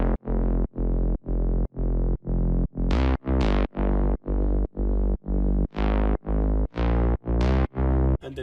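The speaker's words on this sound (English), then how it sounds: "how to make a Reese bass that sounds like this" Deep Reese bass synth built in Serum, played as a run of rhythmic, evenly spaced distorted notes, loud and gritty, with a few brighter accented hits and no voices.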